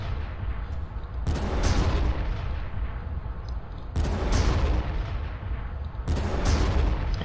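Artillery fire from Basilisk guns in the Warhammer game Armageddon: three heavy booming salvos spaced a few seconds apart over a steady low rumble, loud and close, with no speech.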